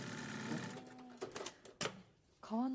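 An industrial sewing machine stitching through several layers of leather at once, producing short, quiet mechanical bursts of rapid stitching, with a person talking around them.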